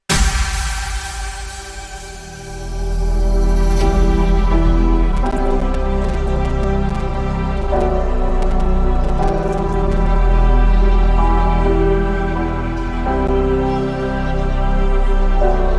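A future house breakdown built in FL Studio, dense and loud, with a sweeping noise riser fading into full sustained synth chords, a deep bass swell and scattered crisp percussion hits, with no voices.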